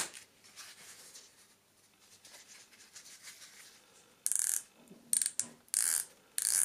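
Diver's watch bezel on a Swiss automatic being turned, a faint soft rustle followed by several sharp, close ratcheting clicks in short bursts, alone without talk.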